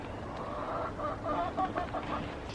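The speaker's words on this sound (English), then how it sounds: "We have a loud chicken." A loud hen in an urban backyard flock clucks in a quick string of short, nasal calls over low outdoor background noise, moderately close.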